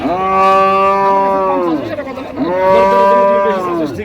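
Two long, loud moos from cattle at Raniganj livestock market in Dinajpur, each rising and sustained for more than a second, with a brief pause between them and faint crowd murmur underneath.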